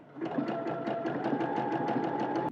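A sewing machine stitches garment pieces in a steady, fast mechanical whir with a rapid ticking needle rhythm, close and continuous, no speech over it.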